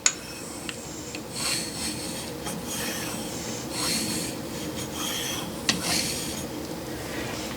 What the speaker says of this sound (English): in soft aluminum, I like to scribe deep enough so there's actually a little bit of a furrow